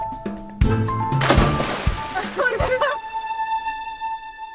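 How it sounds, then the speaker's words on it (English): Water is thrown and splashed over a man dressed in a chef's outfit, a loud sloshing burst followed by spattering drips and a few clattering knocks, with a sustained musical tone ringing out after. "We douse him with water and we film it."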